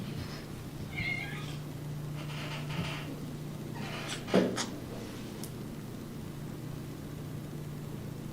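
A house cat meows a few times indoors, short nasal calls near the start and a sharper one midway, fairly close and moderately loud over a constant low hum, with no talking.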